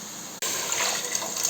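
Water gushes steadily into a pot of rice and green gram being prepared for cooking, a close, continuous pouring splash that starts abruptly after a brief pause and holds at an even level to the end.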